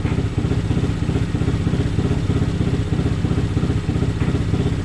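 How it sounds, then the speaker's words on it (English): A Honda Grom motorcycle with a tuned ECU idles up close, a loud, lumpy, rapid-firing rumble with a steady choppy pulse and no voices over it. "you can hear the bike"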